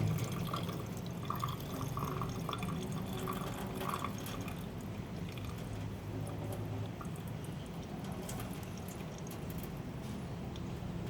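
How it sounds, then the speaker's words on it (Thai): Water splashes and trickles steadily as it is poured out of instant Korean spicy noodles, with a few drips and a faint liquid gurgle throughout. "เทน้ำทิ้ง"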